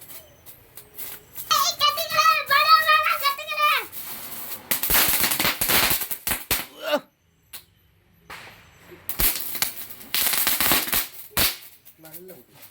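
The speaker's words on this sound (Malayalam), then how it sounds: "അതായത് ഇപ്പൊ ഇത് പൊട്ടിത്തെറിക്കും" Firecrackers set off during a home Christmas celebration: after a stretch of voices, sharp crackling bursts arrive in two rapid clusters, close and loud, with brief gaps between them.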